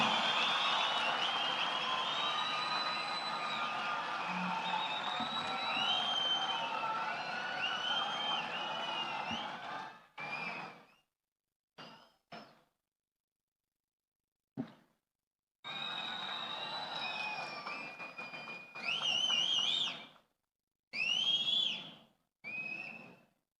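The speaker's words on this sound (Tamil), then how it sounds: "ஒரு அரங்கன் நிறைந்த கைத்தட்டல் நமது குழந்தைகளுக்கும் வெற்றி தலைவருக்கும்" Big hall audience applauding for children and their leader at a Tamil political event, a dense sustained roar with whistles for about ten seconds, then broken into shorter bursts and gaps.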